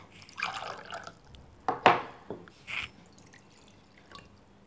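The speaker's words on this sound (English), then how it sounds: "Now, I'm putting this water into different containers." Water poured from one container into several others during a school states-of-matter demonstration, heard as a few short, close splashes and drips spaced over several seconds, with no talking.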